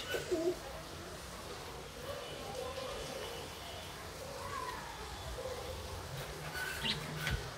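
Pigeons on a balcony coo softly in low throaty bursts over a quiet background, with a few brief higher chirps near the end.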